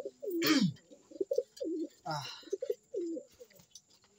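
Pigeons cooing close by in repeated soft, throaty phrases, with a couple of louder rustling bursts mixed in.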